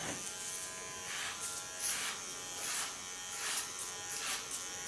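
A golden electric hair clipper runs in a hair salon, a steady high buzzing hum that swells and dips rhythmically as it moves, close and alone without talk.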